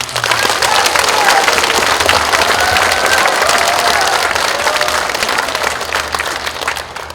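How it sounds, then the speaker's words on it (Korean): Warm audience applause at a political constituency report meeting for a National Assembly member in Yeongju, steady loud clapping from a large crowd with faint cheers mixed in, holding for several seconds. "다시 한번 뜨거운 박수를 보내주시면"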